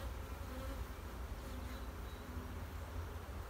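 Honey bees buzz steadily around an open beehive during an inspection of brood and honey supers. The drone is soft and continuous, with no voices over it.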